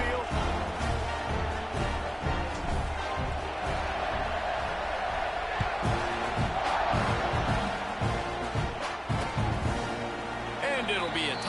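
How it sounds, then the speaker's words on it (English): A large crowd at a college football game fills a stadium with dense, continuous roaring, cheers and whoops that swell and fall throughout, with a commentator's voice talking over it. "Do you think this crowd's going to get loud when their defense comes on the field?"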